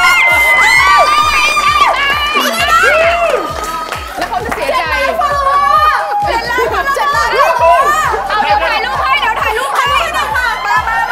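A crowd of children and adults shouts and cheers loudly and continuously at a Thai pitching competition show, with excited voices rising and falling throughout.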